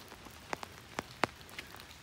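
Rain patters on surfaces outdoors during a Halloween walk among decorated flower beds, a soft steady hiss broken by several distinct nearby drips and drops.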